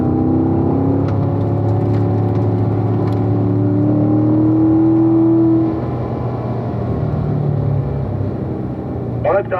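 A Chevrolet Corvette Grand Sport on a driving-school track, its engine droning loudly from inside the car and then easing off, with an instructor's voice over it.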